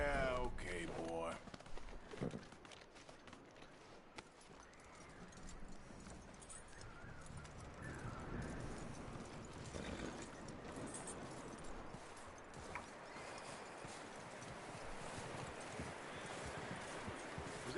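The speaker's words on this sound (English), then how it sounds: "That looks like a decent horse." Horse hooves clip-clop steadily in Red Dead Redemption 2, a continuous rhythmic trotting that runs through the whole stretch at moderate distance, with occasional voices speaking over it.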